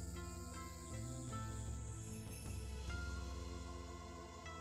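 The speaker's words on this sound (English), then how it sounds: "Cicadas from the few trees growing here." Cicadas buzz from a few trees in the game Steins;Gate, a steady, dense drone of insect calls with layered tonal music running beneath it throughout.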